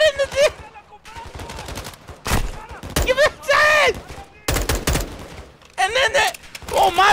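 Heavy automatic gunfire erupts in loud bursts during a Call of Duty: MWII campaign mission, with short pauses between volleys and a voice talking over parts of it.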